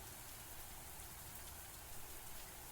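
Steady rain from the visual novel Mamiya, a dense even hiss of drops falling through the darkness at night, continuous and unbroken with no voices over it.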